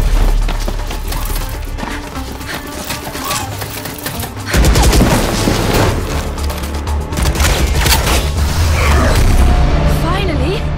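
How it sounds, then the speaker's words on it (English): Gunfire in a Valorant video game cinematic, rapid crackling bursts and booms over a dense music and effects mix, loud and busy, with voices speaking partway through. "We're picking up gunfire."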